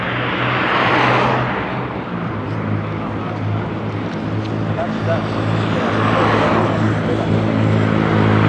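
A truck engine idles in a Nairobi street at dawn, with a steady low rumble and broadband noise that runs throughout.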